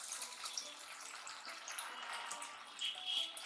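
Water is poured into a pan of Indian rawas fish curry as it cooks. A soft, steady splashing pour runs close by for a few seconds, with no voices over it.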